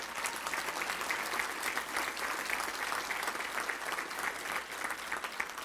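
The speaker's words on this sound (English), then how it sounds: "Please stand and let's give them a round of applause right here." Audience applause at a Touchdown Club awards banquet, a dense, steady patter of many hands clapping throughout, moderately distant and alone without talk.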